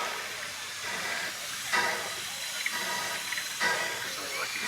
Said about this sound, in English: What sort of roller's that? Ruston Armsby. Listen at it.